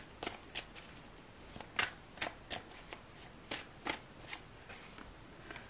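Tarot cards are shuffled by hand in a quick series of soft riffling bursts and flicks, close and fairly quiet, with no talking.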